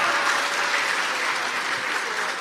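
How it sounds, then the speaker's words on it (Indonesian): Dense, steady applause from an inmate audience at a sermon held inside a special prison, loud and close, filling the whole short stretch without a break. "Tepuk tangan tuh Tio, wah keren."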